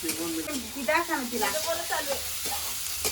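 Vada pav reheating in a pan, with a steady crackling sizzle and occasional stirring scrapes running throughout while a voice is heard over it.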